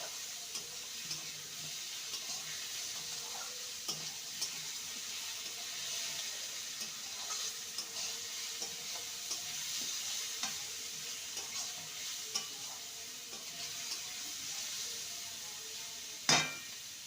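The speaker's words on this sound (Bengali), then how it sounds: "এবার ভেজে রাখা আলুর টুকরোগুলো দিয়ে দেবো ভালো করে মশলার সাথে কষিয়ে নেবো" Fried potato pieces being sautéed with spices in a pan, a steady low sizzle with intermittent stirring scrapes and a sharp clank near the end.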